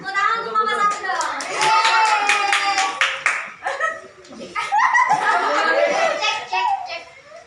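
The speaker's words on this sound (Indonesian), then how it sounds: "Tepuk tangan untuk kelompok 1 dong." A classroom group claps for a team during a game lesson, the clapping mixed with loud children's voices calling out and laughing. The burst rises, dips briefly midway, then swells again.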